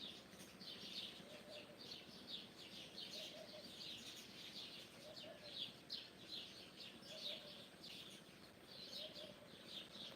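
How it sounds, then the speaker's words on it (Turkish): Birds chirp and twitter at sunrise in repeated bursts at a distance, a nightingale among the trees, with soft cooing underneath, fairly faint against a quiet outdoor background. "Kuşlar cıvıldaşıyor."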